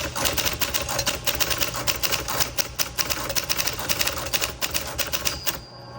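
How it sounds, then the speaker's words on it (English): Fast, continuous clatter of keys striking on a 1971 Adler Satellite manual typewriter as sentences are typed, dense rapid keystrokes ending with a brief pause and a small bell-like ping near the end. "I am just going to type a few sentences."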